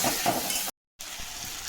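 Ginger, chili and garlic pastes with cumin and coriander sizzle and get stirred in a pan, a steady close fry that cuts to silence for a moment before resuming more softly.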